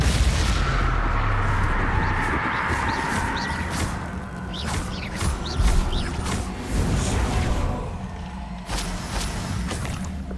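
Spell combat in the Hogwarts Legacy video game, a dense run of booming blasts, whooshes and magical impacts overlapping in quick succession, loud and close with no talking.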